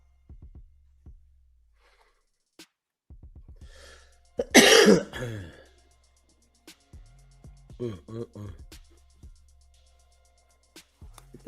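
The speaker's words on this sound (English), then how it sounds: "I got this damn cough." A single harsh, loud cough bursts out midway during a live stream, with a few softer throat sounds and faint clicks scattered around it in a quiet room.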